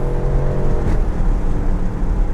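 Loud Aston Martin Vantage engine roar at close range with a brief sharp exhaust crack on an upshift partway through, the drone continuing steadily afterward.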